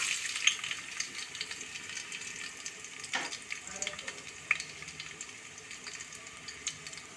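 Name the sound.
small onions frying in oil for tempering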